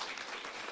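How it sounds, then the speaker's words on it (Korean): A church congregation applauds together at a Sunday service, a soft, steady patter of many hands heard alone. "여러분들 박수를 한번 쳐드리면"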